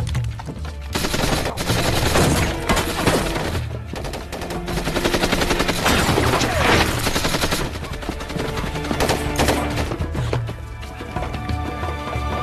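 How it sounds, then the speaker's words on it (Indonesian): Loud, dense automatic gunfire from a battle scene in the film Machine Gun Preacher, with rapid overlapping bursts and shots rattling continuously for about twelve seconds. "Sam menyuruh Marco dan juga Deng untuk menembak ke arahnya"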